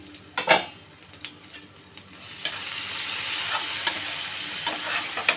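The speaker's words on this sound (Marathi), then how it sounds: "आता ह्याला छान परतून घेऊया आपण" Tomatoes sautéing in oil in a pan, a continuous sizzle that swells after a few seconds, with occasional knocks and scrapes of a spoon stirring; no talk.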